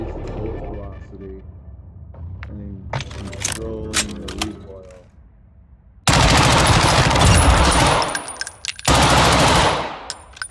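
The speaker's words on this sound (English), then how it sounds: "That's what I enjoy about the gun. The built-in suppressor." A suppressed gun fires in the video game Call of Duty: Modern Warfare 2, loud dense bursts of rapid shots with mechanical clicks, coming after a stretch of quieter clattering and a voice talking.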